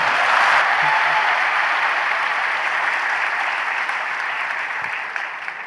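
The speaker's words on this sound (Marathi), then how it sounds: "टाळ्या एकदा जोरात." An audience at a Tukaram Mundhe speech claps loudly in a dense, sustained burst that holds steady for several seconds and tapers slightly near the end, with no talking over it.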